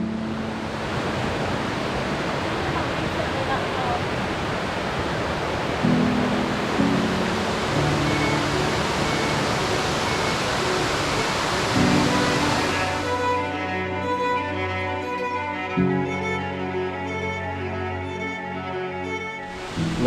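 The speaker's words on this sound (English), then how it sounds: "you'll finally start to hear the immense roar of the waterfall" A waterfall on Kauai roars as a loud, steady broadband rush of falling water, continuous throughout with no voices.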